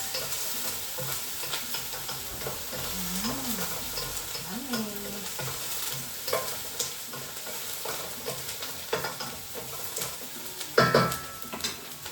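Onion and chopped garlic sizzle steadily in a pan, with a continuous hiss of frying, occasional stirring scrapes and a few louder clinks near the end.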